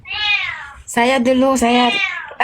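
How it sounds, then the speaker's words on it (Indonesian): A cat meows several times up close, drawn-out, whiny calls with short pauses between them, heard clearly with no other sounds around. "Janganlah kau miau-miau di sana."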